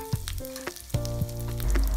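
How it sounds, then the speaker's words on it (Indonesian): Garlic sautés in unsalted butter in a pan, a close, continuous sizzle broken by a few scraping stir strokes, with no voices. "Aku tumis bersama dengan unsalted butter tadi."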